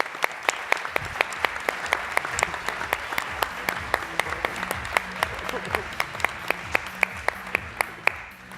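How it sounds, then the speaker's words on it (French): Audience applause at a community gathering, with steady sustained clapping from a crowd and a few sharp, regular louder claps over a low hum of music or murmuring voices. "On l'applaudit bien fort, Jean-François, mesdames et messieurs."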